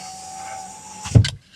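The new front power window motor in a Chrysler Pacifica door whirs alone for about a second, then stops with a short thunk.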